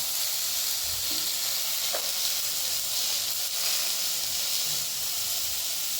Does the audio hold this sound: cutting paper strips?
no